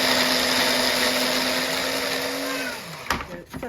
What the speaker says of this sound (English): I'm just going to chuck my onion in there quickly to blend that up